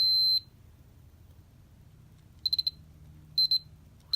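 A Casio BG15 boxing calculator game sounds off with crisp, loud electronic beeps: a steady tone at the start, then a pause, then a quick burst of rapid bleeps and two short double beeps.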